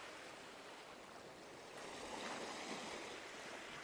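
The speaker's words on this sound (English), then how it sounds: "out here in the ocean, you can hear the waves crash against the shore" Ambient ocean surf from a Minecraft sound mod, a steady broadband wash of waves breaking on a shore that swells slightly louder midway, faint and without voices.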